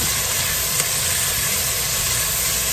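Onions sweating in a hot pan for a keto John Wayne casserole, a dense, loud, unbroken sizzling hiss held at an even level for the whole stretch, with no voices.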